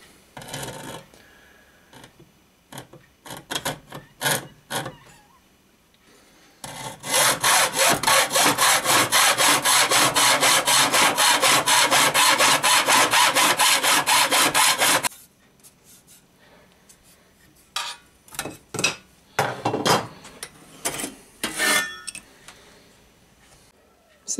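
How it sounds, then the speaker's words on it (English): Metal is cut with a hacksaw in a long run of rapid, loud, rhythmic rasping strokes, framed by scattered clicks and handling knocks before and after. "So we can just get a hacksaw"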